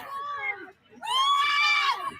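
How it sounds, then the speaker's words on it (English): A woman screams in panic in two long, shrill bursts, the second louder and sustained, with a brief gap between them. "Listen to all the women freaking out and screaming."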